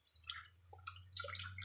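Water splashes and trickles into an empty sardine can in two short bursts over a faint steady hum, close and quiet.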